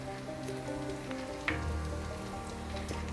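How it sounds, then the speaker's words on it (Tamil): Small shallots sautéing in hot oil for a Kerala-style chammanthi, a steady soft crackling sizzle with a brief louder spatter midway, no talking. "இப்போ இது வந்து இந்த அளவுக்கு நல்லா வெங்காயம் கலர் மாதிரி வர்ற வரைக்கும் நல்லா அந்த எண்ணெயிலே வதக்கிக்கலாம்"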